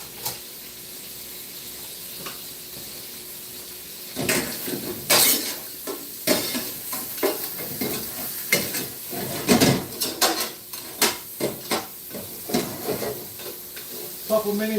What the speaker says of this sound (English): Couple minutes just to saute that baby up